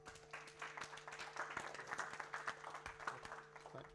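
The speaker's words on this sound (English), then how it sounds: "Big round of applause." At a tech conference, the audience gives a prize winner a quiet, fairly distant round of clapping, uneven and somewhat sparse, over a low steady hum.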